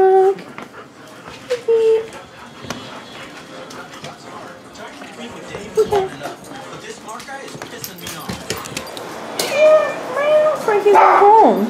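A friendly dog at home whimpers in brief, high thin whines scattered under frequent nearby talk from people, with a louder stretch of activity near the end.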